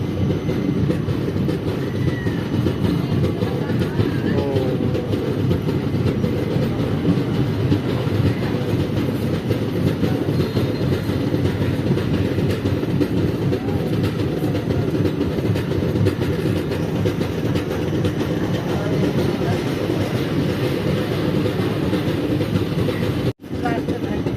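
The Howrah-Haridwar 13009 Doon Express runs through Sasaram Junction in India, giving a loud continuous rumble with rhythmic wheel clatter heard from inside the carriage for the whole stretch, cut briefly near the end.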